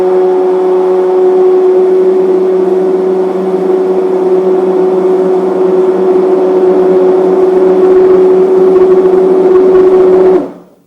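An electric mixer stirring Keto Chow shake mix with water, a loud, steady high-pitched whir running nonstop for about ten seconds before it cuts off abruptly.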